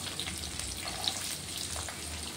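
Onions and tempering seeds sizzle in hot oil in a pan, a soft, steady crackle with occasional small pops.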